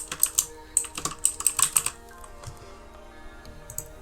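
Close, quick typing on a computer keyboard, a burst of about a dozen crisp key clicks over two seconds, then a pause and a few scattered taps.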